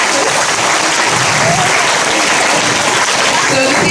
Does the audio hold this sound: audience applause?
yes